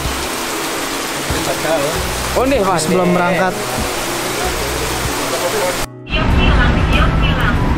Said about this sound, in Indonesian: Cuaca hujan.